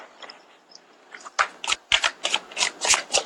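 A deck of tarot cards is shuffled close up, starting with faint soft riffling and then breaking into a quick run of crisp, evenly spaced card flicks.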